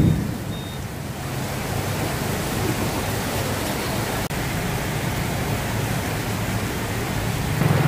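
Heavy rain pours steadily at an outdoor Ramadan bazaar, a dense continuous hiss with no breaks and no voices.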